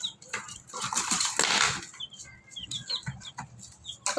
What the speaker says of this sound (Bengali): কত সুন্দর করে আমার মুরগির বাচ্চাগুলো খাবার খাচ্ছে।